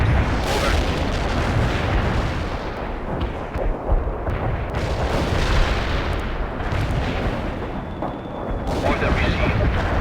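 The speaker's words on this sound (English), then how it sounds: "Artillery strike on the way. Commencing the barrage." A dense artillery barrage in the video game World in Conflict rumbles continuously with overlapping heavy booms and blasts, loud and relentless for the whole stretch.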